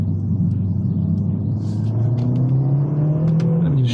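Mercedes CLA45s AMG engine pulling in 2nd gear, a steady loud close rumble with a rising note as the revs climb, no talk.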